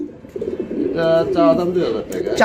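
Pigeons cooing at a pigeon sale, a close series of throaty rolling coos rising and falling over a couple of seconds, with people talking faintly in the background.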